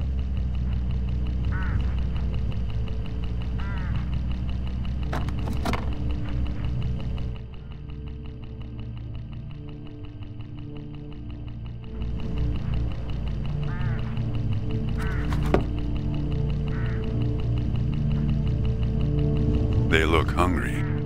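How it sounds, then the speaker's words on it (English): Hooded crows call along a road in the mystery game Hitchhiker, their short, harsh caws repeating at intervals over a steady low vehicle drone. "Look, hooded crows all along this road."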